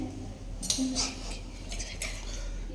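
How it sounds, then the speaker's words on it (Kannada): A metal lid set onto a cooking pot in a home kitchen, a couple of bright clinks and a short ringing scrape at close range over a quiet low hum. "ಇದಕ್ಕೊಂದು ಮುಚ್ಚಳ ಇಡೋಣ"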